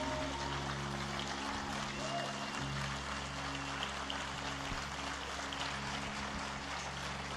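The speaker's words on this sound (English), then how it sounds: "Standing ovation, please." Steady, dense applause from a standing audience, a continuous wash of clapping that fills the room from start to end under a low steady hum.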